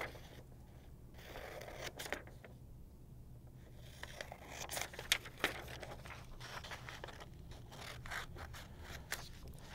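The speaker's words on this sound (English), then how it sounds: "We're going to cut out this second coronagraph," Scissors snip and rub through paper while cutting out a small round coronagraph template, soft and close with scattered crisp cuts over a quiet room.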